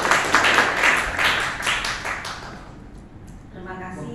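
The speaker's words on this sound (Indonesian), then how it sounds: "kita beri waktu dan kita beri aplaus untuk Bu Ratna" An audience at a certification institute forum breaks into applause, a dense burst of clapping that fades after about two and a half seconds before a voice begins.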